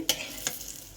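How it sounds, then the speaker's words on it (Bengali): Lentil dumplings (dal bori) sizzle in hot oil in a pan, cooked for a chital fish curry, with two sharp crackling bursts over a steady, close frying hiss. "এই তেলের মধ্যে আমি ভেজে নিচ্ছি এই ডালের বড়িগুলো"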